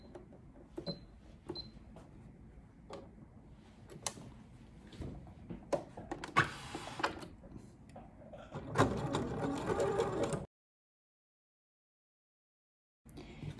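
Sewing machine zigzag stitching swimsuit fabric, quiet mechanical clicking and whirring in short runs, then a louder steady burst of stitching before stopping, with no talk.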